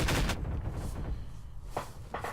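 Gunfire in the Half-Life 2 video game, a rapid close burst of shots at the start, then scattered fainter pops and rumble trailing off, with no talk.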